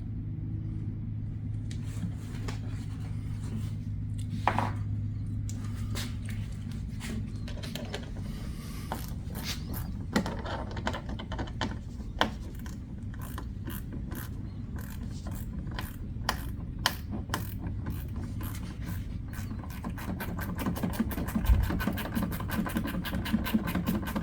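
A screw is driven into the rear wheel-well area of a 2018+ Subaru WRX Premium while Rokblokz mudflaps are fitted, heard as dense ratcheting clicks that speed up toward the end, close and moderately loud with no talk.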